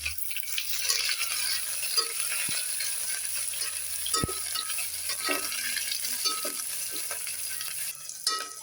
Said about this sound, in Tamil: வெங்காயம் போட்டு வெங்காயம் நல்லா வதங்கட்டும்